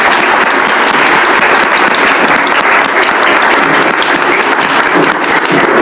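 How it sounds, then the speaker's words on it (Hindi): A room full of students at a motivational study session claps steadily together, a loud, continuous burst of applause with no talk over it. "सब लोग ताली बजाते।"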